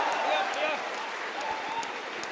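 Applause from an audience at a Hindi comic poetry recital, a dense, steady wash of clapping held at an even loudness for its whole short length.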